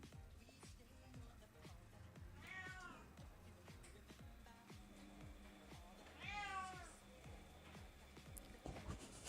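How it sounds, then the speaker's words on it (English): A cat meows twice, drawn-out and whiny, a few seconds apart, over a low rumbling background with some faint talking. "Can you hear how she's meowing?"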